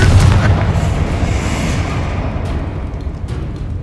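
A Confringo spell explodes in the Hogwarts Legacy video game, a loud, close, low boom that opens the clip and then fades into a long rumbling decay, with no talking.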